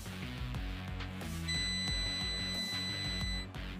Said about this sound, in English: that long durated beep signifies that we're no longer actively recording